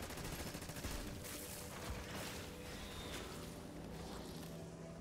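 Rapid, dense gunfire with booming blasts in Black Ops 6 Zombies, a shotgun firing amid constant chaotic game noise, loud and cluttered throughout.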